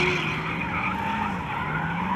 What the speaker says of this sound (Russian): Дрифт – это управление машиной на грани возможного, возможного сцепления с дорогой